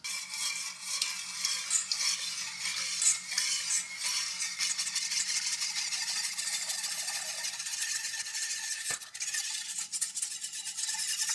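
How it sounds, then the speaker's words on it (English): A whisk working through a milk mixture in a pot over medium heat, continuous fast rattling scrapes against the metal for the full length, with a brief knock near nine seconds. "while whisking basically constantly, I'm gonna add in another 2 cups of whole milk"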